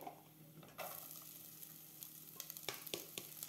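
A medium onion hitting a hot pan, where a low, quiet hiss swells suddenly into a brighter sizzle, followed by a few sharp stirring clicks and scrapes.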